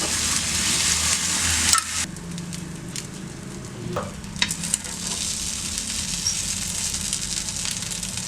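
Beaten egg poured over a dosa on a hot griddle with sesame oil for a Madurai mutton kari dosa sizzles steadily, with a brief scraping stir and a few sharp clicks partway through.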